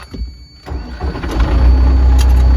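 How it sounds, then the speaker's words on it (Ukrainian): A tractor engine cranks and starts after a quiet moment, then settles into a loud, steady low rumble that builds and holds through the rest of the clip. "Це ходовий трактор такий, але Нічого, треба працювати."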